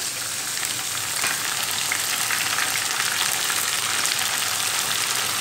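Chopped tomatoes fry in a pan of oil for an aloo baingan curry, giving a continuous, even sizzle and crackle that runs alone with no voices.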